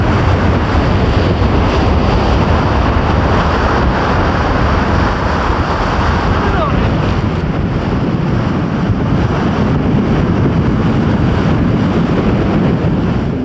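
Loud, constant wash of surf on Moonstone Beach in southern Rhode Island as a storm approaches, heavy wind buffeting the microphone throughout with no voices.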